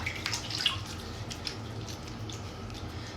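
Hands slosh and splash in a tub of standing bubbly water that has sat for days, with soft close trickles and drips continuing throughout and no speech.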